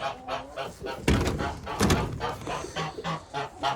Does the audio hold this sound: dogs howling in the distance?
no